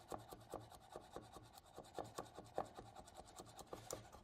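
A knife finely chopping food on a cutting board, rapid evenly spaced taps and scraping strokes about four per second, close and fairly quiet, with no voices.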